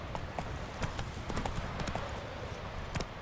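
Horse hooves clip-clop steadily as Roach is ridden in The Witcher 3 video game, a brisk rhythmic trot of close, clear hoofbeats over a constant background.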